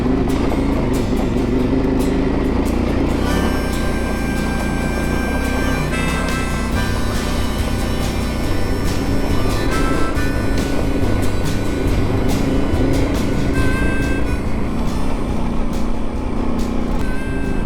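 Suzuki V-Strom motorcycle grinding over rocks on Colorado's Cinnamon Pass, a steady close engine drone with wind and rumbling terrain noise throughout, no voices.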